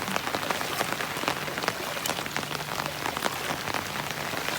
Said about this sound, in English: I don't think we need any more rain.